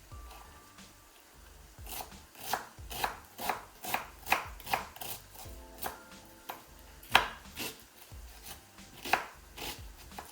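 Knife chopping onions on a board, a steady series of crisp close chops in uneven rhythm, about a dozen strikes with brief pauses between.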